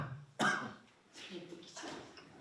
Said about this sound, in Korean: 기침이 났어. 감기 기운이 있어가지고